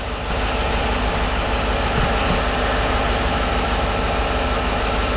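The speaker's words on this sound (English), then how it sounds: "Alright, so engine's running" A Ford F-150 5.0 V8 4WD pickup engine running at steady idle, a continuous low rumble heard close up and alone, with no talk.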